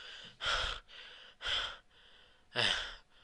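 A voice imitates heavy, out-of-breath breathing: three loud, close, rasping gasps spaced about a second apart, with softer breaths between them.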